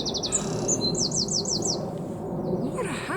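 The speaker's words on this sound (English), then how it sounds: "What a happy bird." After rain, a bird sings in a kitchen garden, giving quick runs of bright, high chirping notes in clusters over a steady background hiss.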